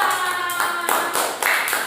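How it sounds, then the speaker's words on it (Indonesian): Classroom applause, a brief burst of several hands clapping in quick, slightly uneven bursts, close and fairly loud, lasting under two seconds. "Tepuk tangan untuk kelompok 2."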